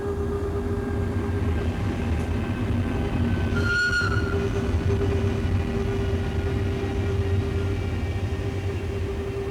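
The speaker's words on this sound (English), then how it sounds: "BLS AE68 number 205 is one of 8 machines built between 1925 and 1943." A historic BLS Ae 6/8 Swiss electric locomotive runs steadily with a constant loud rolling rumble and electrical hum, and a short tonal squeal rises briefly midway.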